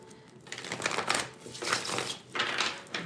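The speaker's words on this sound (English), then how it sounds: "Let's go ahead and shuffle the cards" A deck of tarot cards being shuffled up close, with several rustling, crinkly bursts of card noise separated by brief pauses.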